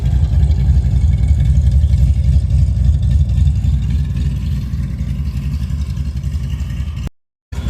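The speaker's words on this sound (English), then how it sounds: "I could listen to this thing chop all day, I really could." A 1990 Ford Mustang LX idles with a loud, choppy, uneven lope, close up and steady with no voices, cutting out briefly near the end.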